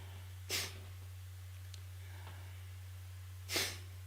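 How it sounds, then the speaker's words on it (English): Two sharp, forceful nasal exhales of a breathing exercise, spaced about three seconds apart, close and distinct against a quiet room with a steady low hum. "Look at rapid, sharp exhales through the nose."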